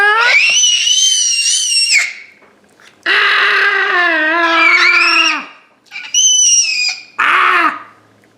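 A baby screams loudly and close in long, high, piercing bursts, the first two lasting a couple of seconds each, separated by short silent gaps, then two shorter shrieks at the end.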